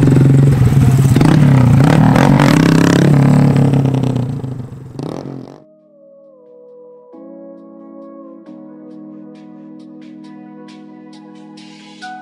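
A Honda Grom motorcycle engine runs loud and close, a rough revving roar with some clatter for about five seconds, then drops away abruptly, leaving only quiet sustained tones.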